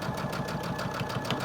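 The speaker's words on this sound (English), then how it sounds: "Remember not to stretch it as you're sewing." A sewing machine stitches quilt block pieces with a fast, even, close mechanical chatter of needle strokes running without pause.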